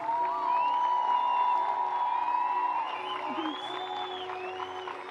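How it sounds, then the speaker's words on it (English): A baseball crowd at a women's professional baseball game between the San Francisco Firebells and Los Angeles Queens applauds and cheers military veterans, distant stadium clapping and whoops under a sustained organ-like tone and a public-address voice. "please join us in giving our military members and veterans a well-deserved round of applause."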